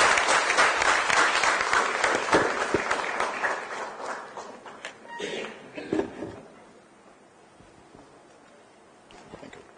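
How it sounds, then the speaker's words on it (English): Conference audience applauding a keynote speaker, a broad wash of many hands clapping that starts full and gradually fades out, a few last claps trailing off into near quiet. "Let's welcome him with a round of applause."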